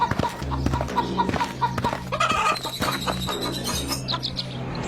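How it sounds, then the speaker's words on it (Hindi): Chickens cluck and chirp in a continuous, busy chorus, with repeated short calls close by over a steady farmyard background. "कलुआ बिलुआ दुखी मन से अपने हिस्से की मुर्गियां ले चले जाते हैं।"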